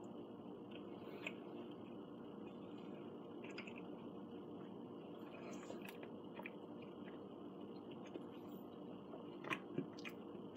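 Someone chews Banquet Swedish meatballs close to the microphone, a soft, steady run of wet mastication with a few small bites near the end.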